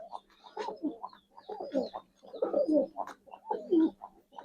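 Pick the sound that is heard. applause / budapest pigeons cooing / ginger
budapest pigeons cooing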